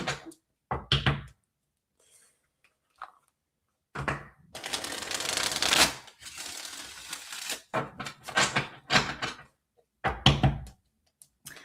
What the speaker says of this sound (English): Let's get a good shuffle in for Pisces